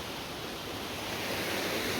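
River water rushing steadily beside a small bridge on a valley waterfall trail, a dense broadband wash that grows slightly louder and fuller over two seconds, with no voices.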